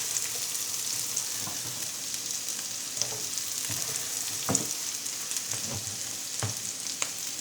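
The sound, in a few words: garlic coil sausage frying in a pan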